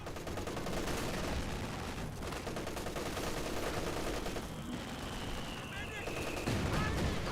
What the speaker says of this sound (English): Over here, MG firing away, hitting the conscript squad there.